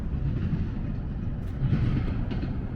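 A freight train rolls along rails in the California desert near Route 66, a steady, loud low rumble filling the whole stretch with no pauses.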